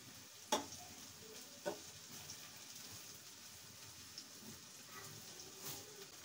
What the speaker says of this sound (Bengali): আমি এখন পেঁয়াজ গুলো ভাজা নিই।